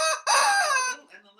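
A rooster crows loudly and close by after a short cluck, a single drawn-out call that fades at the end.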